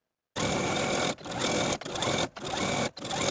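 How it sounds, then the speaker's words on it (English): A sewing machine edge stitches a folded apron strap in loud, close bursts of rapid needle whirring, stopping briefly four times between runs. "we're going to edge stitch along both of our long edges"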